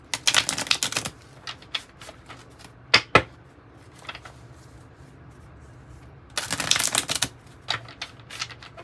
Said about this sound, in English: Let's pull maybe a couple of tarot cards for this.